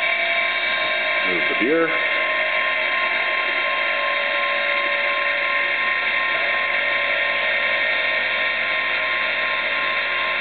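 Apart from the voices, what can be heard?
EMC2-controlled Sherline CNC mill making a fast move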